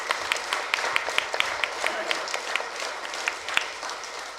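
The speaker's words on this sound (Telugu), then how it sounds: "వారికి మరొకసారి గట్టిగా చప్పట్లు కొట్టుకుంటూ" An audience at a health workshop applauds, with steady, dense clapping and sharper individual claps standing out, sustained throughout at moderate loudness.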